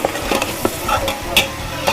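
Camel meat is stir-fried in a pot, with a steady sizzle under repeated scraping strokes of a utensil at an uneven rhythm, close and fairly loud.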